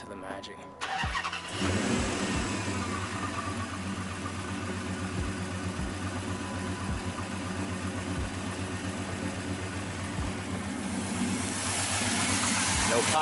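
A car engine starts and then idles steadily after spark plug and valve cover work, a close, even mechanical hum with a faint regular ticking pulse and a rising hiss toward the end.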